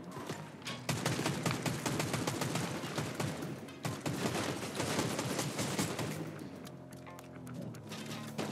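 A video game gun fires dense, rapid automatic bursts that run almost without a break for several seconds, loud and close, before thinning out into scattered shots near the end.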